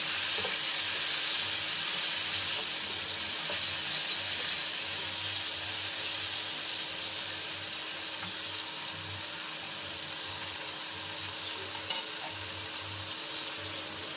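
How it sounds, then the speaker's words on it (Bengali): Chopped tomato stirred and fried in a pan for an aloo soybean curry, a steady bright sizzle with a low bubbling undertone and faint stirring scrapes, continuous and close throughout without talk. "টমেটো কুচি ভালো করে একটু নাড়িয়ে নিতে হবে"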